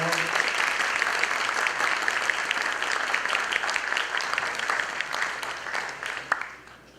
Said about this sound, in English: Aplausos para Mónica Lam, por favor.